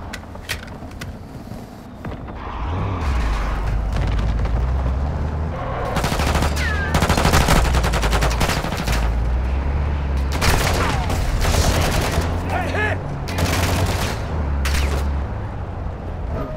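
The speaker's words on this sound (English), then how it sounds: "I'm taking effective fire!" Gunfire in Call of Duty MWII DMZ, with repeated loud bursts of automatic shots and heavy low booms over several seconds, while players talk over it.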